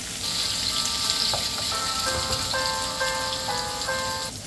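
Aromatics sautéing for Ilocano pinakbet give a loud, steady close sizzle throughout, while a tonal melody plays faintly underneath with no talking.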